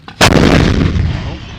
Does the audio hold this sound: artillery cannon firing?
yes